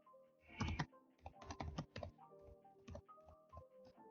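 Someone types a short search phrase on a computer keyboard, producing a quiet, irregular patter of individual key clicks with small gaps between them.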